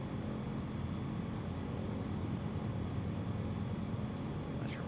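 Bush plane engine in Microsoft Flight Simulator 2024, a steady droning hum heard from outside the aircraft, continuous and even throughout.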